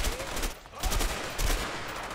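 A shootout in A Way Out: rapid automatic gunfire rattling close and loud in dense bursts for a couple of seconds, with a brief dip in the middle before the shots resume.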